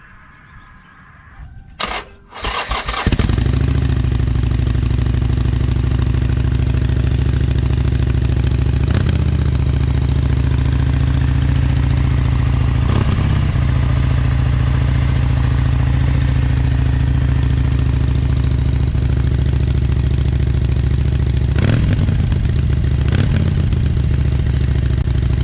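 A 2015 Harley-Davidson Sportster Iron 883 on its stock exhaust starts up and settles into a loud, lumpy idle, a deep steady throb close by with a few small revs, and no talking.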